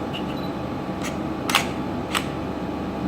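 Camera shutter firing on a tripod-steadied camera in low light, heard as a few sharp, faint clicks spaced about half a second apart over a steady background hum.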